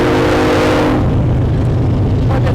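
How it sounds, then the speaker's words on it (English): A train passes by outdoors, a loud, close rumble with a tonal horn-like hum that fades in the first second, then a broad, steady roar continues without speech. "Excuse the train as it drives by."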